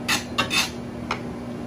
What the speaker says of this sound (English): now we're going to combine our hamburger and our sausage together